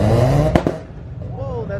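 A Mazda RX-7 at a car meet rumbles and revs nearby, with a sharp burst in the middle, and voices are heard over the engine noise.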